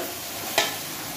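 Beef with ginger and garlic sizzles steadily in a pot for palao, a bright, even hiss with one brief louder crackle, close and with no voices.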